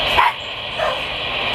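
A dog barks a couple of times in Call of Duty Mobile, short yelps over a steady noisy background.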